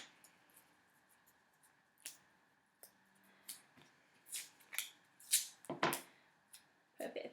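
Scissors snip paper teeth for a summer camp craft, a quiet run of short cuts that grows into louder, closer crunchy snips near the end, with faint room noise between them.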